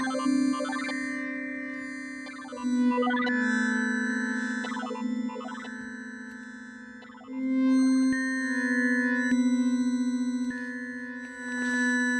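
Sustained synth pad on a Blofeld synthesizer holding steady tones while a bright, chirpy random-shape LFO modulation jumps unpredictably in pitch, producing irregular sweeps and blips over the drone.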